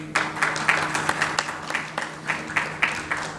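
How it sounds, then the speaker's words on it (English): Audience applause at a stroke conference panel in a hotel hall, claps sounding in clear rhythmic bursts over a steady low hum, moderately loud and close. "A round of applause, please"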